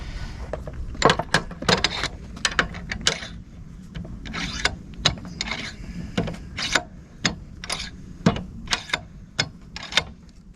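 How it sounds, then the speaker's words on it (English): Stihl chainsaw bar being clamped into a bench vise: a quiet, irregular run of close-up clicks, ratcheting knocks and scraping metal contacts as the vise is tightened, with no talking. "let's put this thing in the vise"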